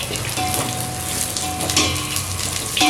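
Dried jackfruit seeds frying in a pan of tempered oil for a tamarind curry, giving a steady, close sizzle and crackle with faint stirring.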